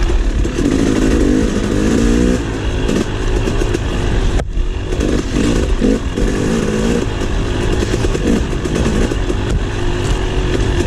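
A KTM 300 XC two-stroke dirt bike on a trail ride at NATRA in West Point, Tennessee, its engine loud and close throughout, buzzing and rising and falling with the throttle, with rattling over rough ground.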